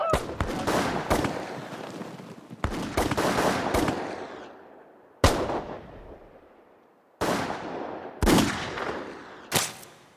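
Reenacted execution-squad gunfire: six sharp, loud volleys of rifle shots spaced a second or two apart, each with a crackling burst and a long echoing decay.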